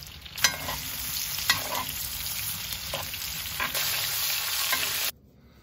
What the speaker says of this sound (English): Add the steaks to the pan. Start your basting.